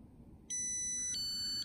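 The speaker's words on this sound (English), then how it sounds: "In a moment we'll get a beep and this will turn red," CBE PC380 control panel on a boat beeping: a loud steady electronic tone with a brief break and a second tone, close by over a quiet background, no talk.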